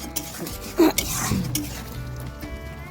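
Ground spices with salt, turmeric and dried chilli powder are sautéed in a pan, producing a low sizzle under scattered stirring scrapes and a few sharp metallic clinks, close by with no talk.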